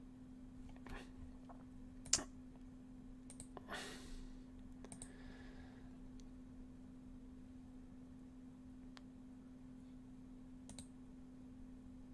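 Typing on a computer keyboard, with scattered sharp clicks and a few louder key strikes over a steady hum and background hiss, the taps thinning out and growing sparse toward the end.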